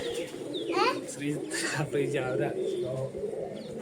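A pigeon coos softly in short, low murmuring calls, partly masked by people talking nearby.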